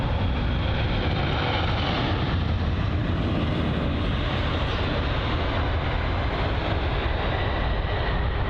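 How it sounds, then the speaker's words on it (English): A British Airways Boeing 787-10 Dreamliner arriving at London Heathrow from New York Newark, heard as a continuous broad jet roar, loud and steady for the whole stretch with no talk over it. "up next is going to be the first 787-10 Dreamliner of the day, operated by British Airways, arriving from New York EWR"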